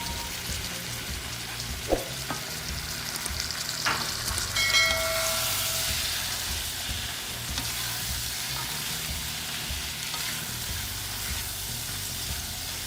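Tomato puree goes into potatoes sautéing for aloo palak, raising a broad steady sizzle with a few light utensil knocks and stirs, the frying hiss continuing evenly throughout.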